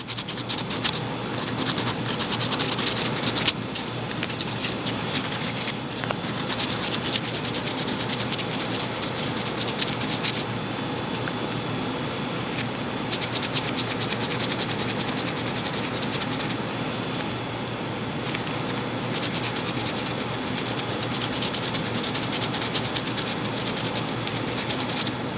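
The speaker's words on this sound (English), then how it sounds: "you should take your sandpaper and then smooth it out some" Continuous close scratchy rasping as a piece of a Dayan Zhanchi puzzle cube is rubbed back and forth on sandpaper for a long steady stretch, with no talking.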